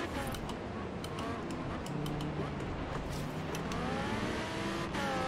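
An Audi R8 Coupe V10 Plus 5.2 FSI quattro revs hard in Forza Horizon 3, its engine note climbing steadily through the gears amid other cars and brief tire noise, with someone talking over it.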